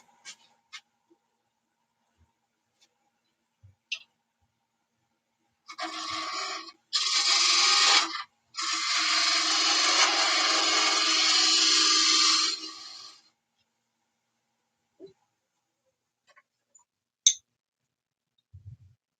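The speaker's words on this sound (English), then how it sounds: "Got a little bit of a tear out there on that, so we'll clean that up with a detail gouge" A detail gouge cuts into a turned wooden box on a lathe to clean up tear-out, giving a close, steady scraping hiss in two short bursts and then one longer run of about four seconds, with quiet clicks before and after.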